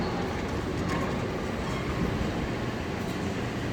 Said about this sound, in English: Alright, well, the train is back.